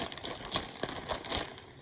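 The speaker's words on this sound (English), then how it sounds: "Now I'm going to put it in a Ziploc bag and then I'm going to double bag it." A Ziploc plastic bag being double bagged gives off continuous crinkling and rustling as it is handled, close and moderately loud with no talking.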